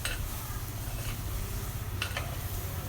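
Okra (ladies finger) sautés in a pan with a steady, close sizzle and a few light clinks and scrapes of a spoon stirring, with no talking.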